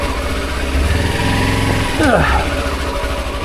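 A Kawasaki Versys-X 300 motorcycle runs on a sandy 4x4 mountain trail, its engine humming steadily and rising briefly as a rider lets out a short grunt.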